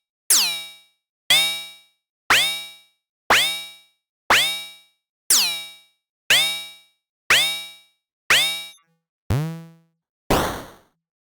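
A modular synth drum machine plays a repeating percussive tone whose pitch drops quickly after each hit, about ten evenly spaced strikes one per second, with the last hit turning into a noisy burst.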